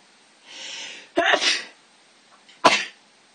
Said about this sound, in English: I usually sneeze like 7 times